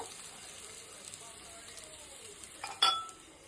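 Soft, steady frying sizzle hisses quietly throughout, with a brief utensil clatter near the end.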